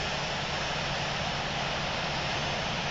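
An airliner's number two jet engine spools up in a flight simulator game, a dense, steady roar that holds constant and close throughout, with no voices over it.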